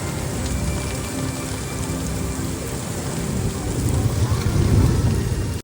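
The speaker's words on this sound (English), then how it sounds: "It rained nonstop the entire rest of the day." Heavy rain pours steadily at an Orlando theme park, a dense close hiss of drops on surfaces that grows louder toward the end, with no talking.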